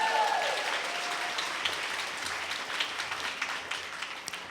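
An audience at an award ceremony claps steadily, a dense, even wash of applause from a large crowd that holds for several seconds.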